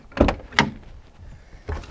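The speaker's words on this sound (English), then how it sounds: "Even the door handles all still work." The door of a 1978 Ford XC Falcon is worked: two quick metallic clunks close together from the handle and latch, then a softer thump a moment later, all near and fairly loud.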